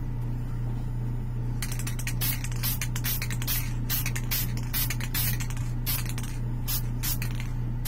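Lacquer paint sprays from a can in a series of short, sharp hissing bursts. The bursts are separated by brief pauses and sit close and clear over a low steady hum.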